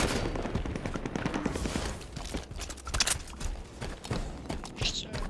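Gunfire in a Halo 5 Big Team Battle match, rapid bursts of shots crackling continuously at close range, with a voice talking over them.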